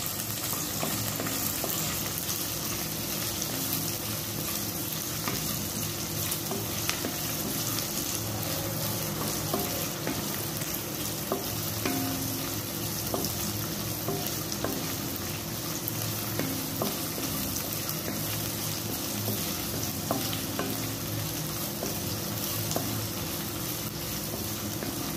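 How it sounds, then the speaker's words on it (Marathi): Spices for a Malvani mushroom masala curry frying in oil over a high flame, a steady dense sizzle with occasional stirring scrapes, continuous and close throughout with no talking. "आता हे सर्व तेलात हाय फ्लेमवर व्यवस्थित भाजून घ्यायचे आहे."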